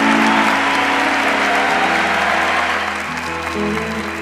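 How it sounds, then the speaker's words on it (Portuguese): A church audience applauds after a sermon on chastity, with dense clapping that continues steadily under a musical tone and then fades slightly toward the end. "Pode aplaudir."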